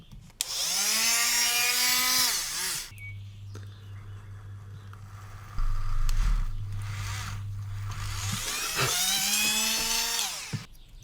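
A small hand-held rotary tool with a 0.3mm drill bit whines at high pitch in two bursts while drilling a 1/32 scale model kit, with a lower steady hum and scraping in between, close and fairly loud.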